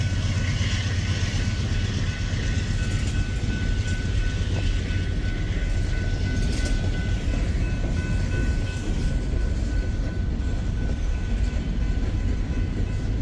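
A diesel switcher locomotive rolls past on the railroad with a steady, heavy low rumble and engine drone throughout, joined by faint wheel noise and no speech.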